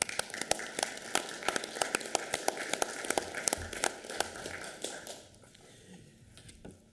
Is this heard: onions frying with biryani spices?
no